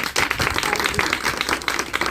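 A church congregation breaks into brisk, dense clapping that fills the short stretch at steady strength, with no voices standing out above it.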